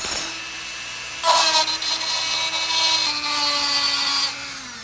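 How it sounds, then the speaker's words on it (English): A Dremel rotary tool grinds off the peened end of a roller axle pin with a high, steady whine whose pitch shifts slightly as it bites into the metal, close and continuous. "let's get our Dremel tool in and very carefully grind that off"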